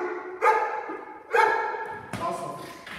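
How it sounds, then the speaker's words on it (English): Neapolitan Mastiff barking during hold-and-bark training, three loud, deep barks spaced about a second apart, close to the microphone, with a handler's voice faintly mixed in. "Now we're trying to get the drive to bark."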